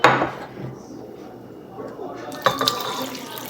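Water poured into a bowl of puto batter mix with flour, sugar and oil, a short splashing pour near the mic, followed by faint clinks of a utensil against the bowl.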